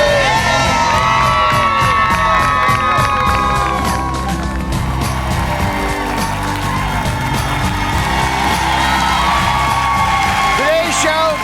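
A television studio audience cheering, whooping and shouting loudly, a sustained crowd roar over the whole stretch with whistles and applause mixed in.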